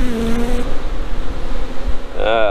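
Honeybees buzz around a beehive frame during a hive inspection, a close, loud, continuous drone with wavering pitch as individual bees pass near, while a voice talks briefly at the end.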